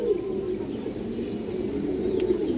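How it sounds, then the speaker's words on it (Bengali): Female pigeons coo in a low, steady murmur that runs continuously, fairly close, with no talk over it. "এই যে দেখেন মাদি কবুতর"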